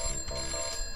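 Electronic telephone ringing inside Christmas Shopping Simulator, a continuous trilling ring filling the whole moment at steady moderate loudness with no voices over it.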